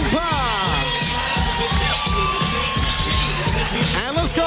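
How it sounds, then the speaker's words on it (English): A home crowd at a kickboxing event gives a loud, sustained ovation of cheering, whistling and shouting that fills the arena without a break for several seconds, with rhythmic thumping underneath. "A great ovation for John Wayne Parr."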